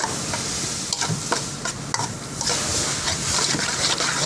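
Minced pork for larb sizzles loudly in a pan while a utensil scrapes and stirs in quick irregular strokes, close and busy, with the frying growing denser toward the end.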